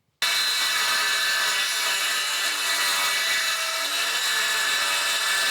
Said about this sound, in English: I'm going to use the circular saw to here, and then I'm going to jigsaw the rest